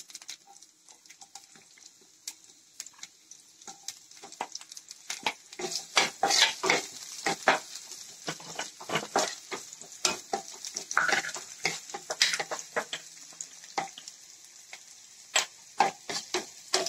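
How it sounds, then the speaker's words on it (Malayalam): Onions sautéing in a pan for mutton curry, a steady close sizzle with repeated spoon scrapes and stirring clinks, busiest in the middle, no talking. "സവാള ഒന്ന് വഴറ്റിയെടുക്കാം."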